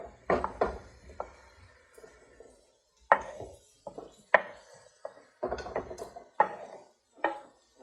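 Food for a clams and chorizo dish being cut on a board: a series of irregular knocks and chops, some in quick pairs, with short pauses between bursts.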